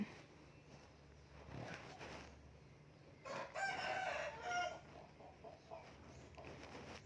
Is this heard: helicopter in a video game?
no